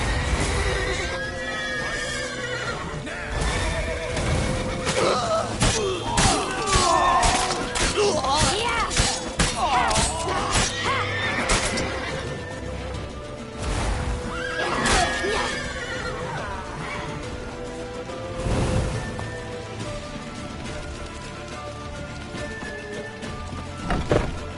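Horse neighs and hooves amid crashes and thuds in the video game The Witcher 3, a busy loud mix with voices shouting over it.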